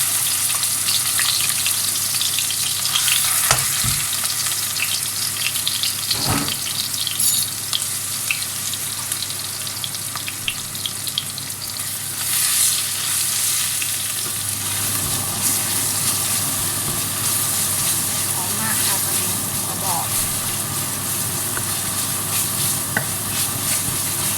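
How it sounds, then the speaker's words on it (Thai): Thai curry paste sizzles and fries in a pan with mushrooms, a steady bright crackling hiss that goes on throughout, broken by occasional scrapes and knocks of the spatula. "เครื่องแกงลงผัดเลยค่ะ"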